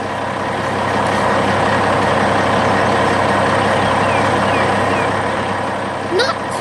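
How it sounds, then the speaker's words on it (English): A dump truck's engine runs steadily and loud for heavy construction work, a continuous low rumble with a faint high whine, voices chattering over it throughout. "That dump truck is built for heavy work, like moving earth and rocks for a brand new construction project."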